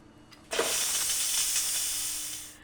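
A pressure cooker, used to make pot roast, vents its steam in a sudden loud, steady broadband hiss that starts sharply and tapers slightly over a couple of seconds, close up and alone with no talk.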